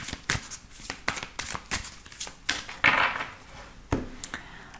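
Oracle cards are shuffled by hand during a tarot-style reading, giving close, crisp riffling and slapping sounds in irregular bursts, with sharper taps where the deck is squared, and no speech over it.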